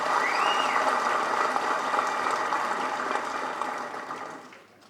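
An audience at a May Day celebration gives sustained applause, a dense crackling wash of many hands clapping that stays strong, then gradually thins and fades out over the final second, with no talking over it.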